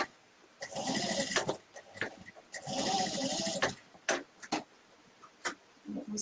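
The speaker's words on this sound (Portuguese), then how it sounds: "eu vou costurar a borda dela todinha" A sewing machine stitches around the edge of a handmade bag in two fast whirring runs of close, rattling needle strokes, separated by brief pauses and light handling noises.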